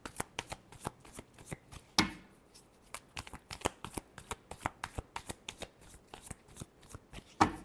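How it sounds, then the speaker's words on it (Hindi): A deck of tarot cards is riffled and shuffled in quick, crisp bursts of snapping card flutter, close and clear, repeating steadily with brief pauses. "Last shuffle."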